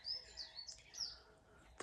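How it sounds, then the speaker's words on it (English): Small birds chirp in the morning, with a few short, bright tweets over quiet background hiss across a brief moment. "The birds are so busy."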